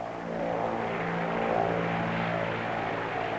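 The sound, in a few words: propeller airplane engine in flight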